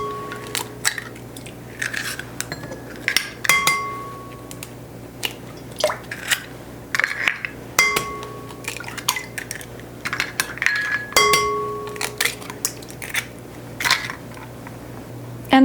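Eggs cracked into avocado oil in a bowl for raisin bran muffin batter, with sharp clicks, taps and clinks of shell and utensils against the bowl, close and intermittent.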